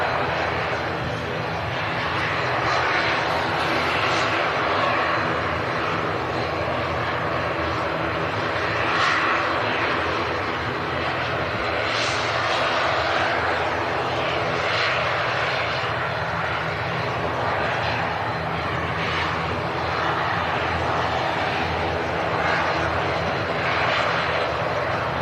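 Steady, loud drone of ATR turboprop engines running as the aircraft holds in place, a continuous broadband roar with slight swells throughout.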